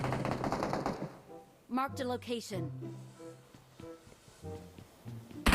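Rapid bursts of gunfire in the mobile battle-royale shooter PUBG Mobile, loud and close at the start, then someone talking over quieter game noise.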